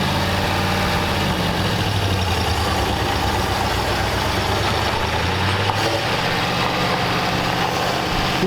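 A 1934 Ford Delivery engine idles after starting, a steady low rumble with a constant uneven chug running throughout, close and loud with no talking.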